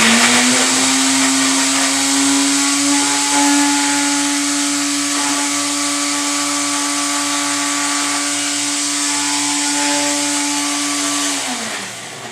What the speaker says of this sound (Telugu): అల్లము ఎల్లుల్లి ఈ రెండు మాత్రము మిక్సీ పడుతున్నాడు